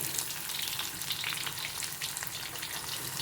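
Garlic and cumin seeds frying in hot oil for a Maharashtrian moong dal dry sabzi, giving a steady, dense crackling sizzle close up that holds evenly throughout with no talking.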